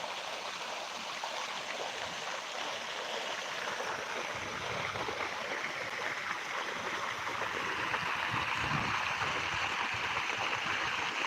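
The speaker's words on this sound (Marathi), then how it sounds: "बघा शेतकऱ्याच्या गावाचं पाणी चालू आहे" Running water rushes steadily and continuously on a farm, a broad hissing flow with no voices.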